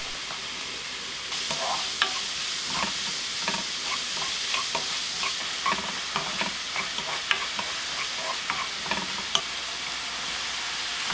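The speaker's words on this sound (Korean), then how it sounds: "팬에 식용유 3스푼, 다진 마늘 1스푼, 다진 양파 넣어 1분 볶아주세요." Minced garlic and chopped onion stir-frying in oil in a pan, a close steady sizzle broken by frequent spatula scrapes and clatters, with no talking.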